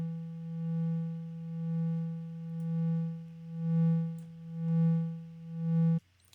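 Synthesizer oscillators hold a buzzy harmonic drone whose volume swells and fades about once per second under a 1 Hz LFO, six even pulses before the tone cuts off abruptly.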